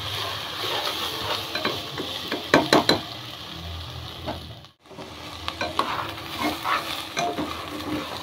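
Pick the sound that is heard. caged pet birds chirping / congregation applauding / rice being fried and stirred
rice being fried and stirred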